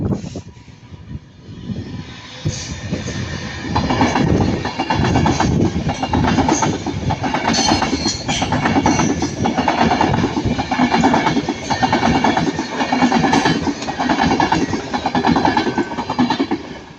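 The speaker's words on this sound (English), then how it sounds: "But we're going to have the Pendolino. So this is going quite slow." A Pendolino train rolls slowly past at Ardwick, a loud, sustained rumble with rhythmic clickety-clack of wheels over rail joints, close by and continuous.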